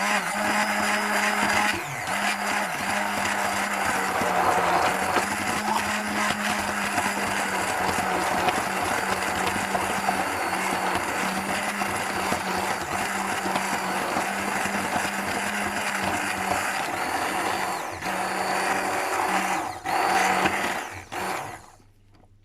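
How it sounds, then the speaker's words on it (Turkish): A blender purees carrots for a cinnamon hazelnut carrot cake, whirring loudly and steadily for about twenty seconds before winding down at the end. "püre haline gelene kadar karıştıracağız"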